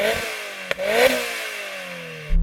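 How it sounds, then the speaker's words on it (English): A turbocharged Mazda Roadster MX-5 engine revs up in sharp blips, its pitch rising and falling over a couple of seconds, then settles toward idle, fairly loud and close with no talk. "Let's have a listen to the turbo."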